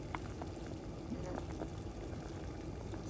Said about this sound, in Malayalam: അപ്പോൾ വീണ്ടും നമ്മൾ ഇട്ട് കൊടുത്തതിന് ശേഷം വീണ്ടും തിളയ്ക്കുന്നുണ്ട്